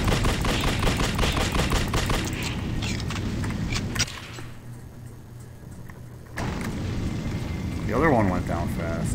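Rapid, loud pistol gunfire from the horror game The Suffering, a burst of sharp shots packed close together at the start and then trailing off into rumbling game noise, with a voice heard near the end.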